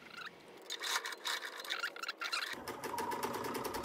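A sewing machine stitches fabric binding onto a quilt-as-you-go oven mitt, running steadily and close for the whole stretch, with a quieter start that turns into a denser, louder whir halfway through.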